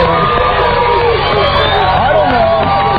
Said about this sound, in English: We got a crowd of people